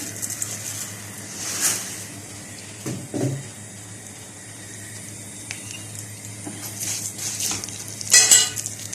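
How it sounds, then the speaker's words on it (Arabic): Vermicelli frying in oil in a pan, a steady low sizzle with intermittent stirring scrapes and a few brief clinks, close and moderately quiet. "هحمر الشعريه وهرجع اوريكم"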